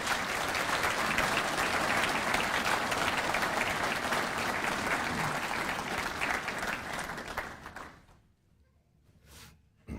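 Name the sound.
audience applause at graduation ceremony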